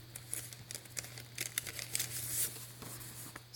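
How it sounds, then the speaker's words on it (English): Glassine bag crinkling and rustling as it is handled in a junk journal, with sharp, irregular crackles and papery bursts close up, steady faint hum beneath, no talking. "then I have this glassine bag."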